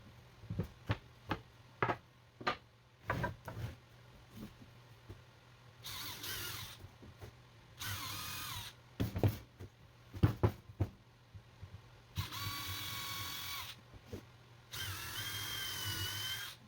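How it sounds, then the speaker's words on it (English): A power drill bores pilot holes into a wooden 2x4 frame for a kitchen addition, with several short whirring bursts of a few seconds each plus brief ticks and knocks from handling, close and fairly loud, with no talking. "using the previously drilled holes to mark where I need pilot holes on the"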